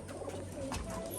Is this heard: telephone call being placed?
no